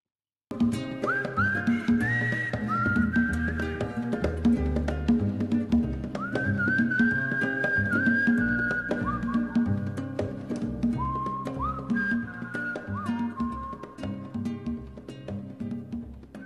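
A melodic whistle carries the tune of a classic Swedish folk song over steady guitar and band accompaniment, long sustained and sliding notes repeating throughout, with no voices over it.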